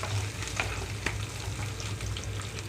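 Onions softening in a pan for pappu charu, a steady close sizzle with faint stirring clicks and no voices.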